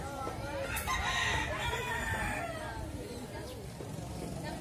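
Chickens at a market crow and cluck in a dense, busy chorus, loudest in the first half, with people talking nearby throughout.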